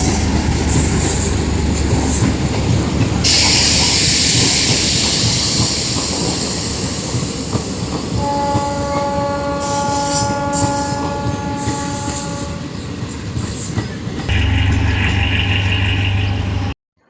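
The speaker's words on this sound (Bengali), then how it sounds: "আর এখন রেল আসছে" A train pulls into a station with a loud, continuous rolling rumble, then sustained high-pitched wheel and brake squeals as it slows, heard close by without talking.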